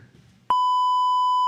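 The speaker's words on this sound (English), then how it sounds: "No way you have the beep." A loud, steady electronic censor beep fires from a soundboard after a moment of faint background, then holds unbroken to the end.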